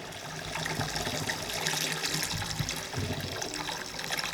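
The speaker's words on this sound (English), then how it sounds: "pour our starter in" Yeast starter pouring into beer wort for a blood orange wheat brew, a steady splashing, trickling stream of liquid running continuously into a large vessel at close range.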